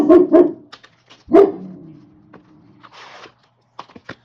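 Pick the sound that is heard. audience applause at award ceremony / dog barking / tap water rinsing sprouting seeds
dog barking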